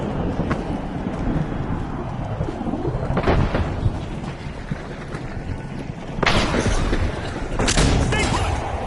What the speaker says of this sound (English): Our contestants are in for an astronomical surprise as meteors rain down upon the